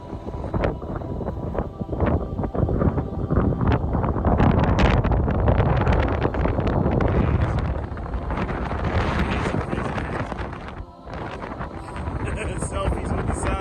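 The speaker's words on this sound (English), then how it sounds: "Look at the wind just blowing." Strong gusts buffet the microphone in a roadside stop in Arizona, a loud, rumbling wind roar that swells and dips continuously, with faint talk beneath it.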